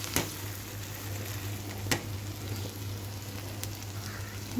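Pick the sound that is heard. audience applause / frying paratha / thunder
frying paratha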